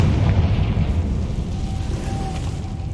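Explosive Confringo spell blast in Hogwarts Legacy, a deep booming rumble that fills the whole stretch at steady loudness with a faint tonal whine midway, no talking.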